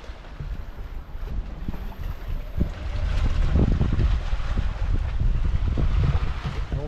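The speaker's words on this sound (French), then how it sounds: "Pas mal de vent ce matin" Wind at sea aboard a sailboat on the fourth day of a passage toward French Guiana, blowing about 15 knots: a steady broadband rush and gusting buffeting, growing stronger midway through, with water noise around the hull.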